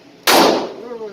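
A single sharp revolver shot at target practice, loud and close, cracking suddenly and ringing off with a short decaying tail.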